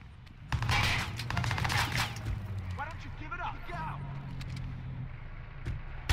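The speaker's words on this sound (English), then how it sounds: "That's a gun, yes." Gunfire in the Watch Dogs video game, a quick burst of rapid shots near the start followed by scattered bangs under a busy game soundscape, with a voice talking over part of it.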